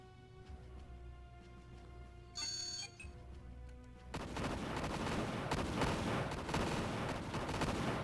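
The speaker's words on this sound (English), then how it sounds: "what are they firing at here?" Starships trade weapons fire in the space strategy game Imperium Galactica: after a soft tonal chime, a dense, continuous rattle of rapid blasts erupts and keeps going at steady loudness.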